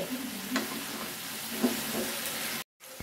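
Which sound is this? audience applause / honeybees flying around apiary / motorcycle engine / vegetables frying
vegetables frying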